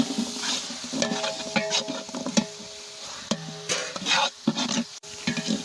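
Tomatoes sautéing with ginger-garlic paste for vegetable biryani, a moderate sizzle broken by uneven stirring scrapes and clinks of a spoon in the pan, close and irregular.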